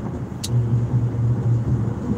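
Steady low drone of a car driving on the road, heard from inside the cabin with a constant engine and road hum, plus one brief faint click early on; no one speaks.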